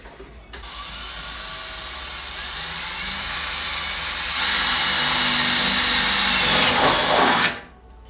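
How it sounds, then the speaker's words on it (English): A power drill whines into the body of a Jeep, starting abruptly and holding a high steady pitch, growing louder partway through before cutting off; close and prominent with no talk. "you're drilling"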